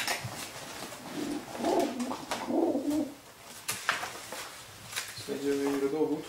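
Racing pigeons in a Polish breeder's loft coo in soft repeated rolling calls, near and steady, while someone talks over them.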